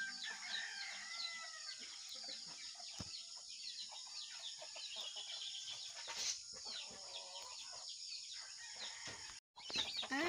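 A steady din of clucking hens fills the yard, with a rooster crowing partway through amid the flock's constant chatter.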